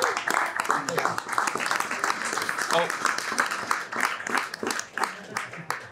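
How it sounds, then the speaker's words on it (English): Audience applause for a hospitality industry panel at a live event, a dense, continuous patter of many hands clapping that fills the room for the whole stretch at steady loudness. "round of applause for our panelists today"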